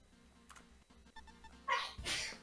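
A single sneeze bursts out near the end, a short sharp explosive breath following a faint inhale, heard somewhat close against a quiet background.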